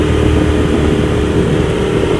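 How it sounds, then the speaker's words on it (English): A 2019 Polaris RZR Turbo S with an S&B filter and closed exhaust drives along, its steady, moderately loud engine drone continuous throughout with no talking. "So you can hear with the exhaust closed, it's really quiet, it's not bad, really not much louder than stock."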